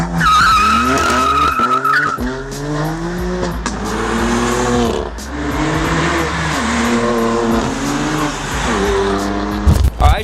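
A 2019 BMW M2 Competition of about 400 horsepower, pushed hard on a canyon road, its engine revving up and down through repeated gear pulls as the tires skid and squeal, loud and close with no talking.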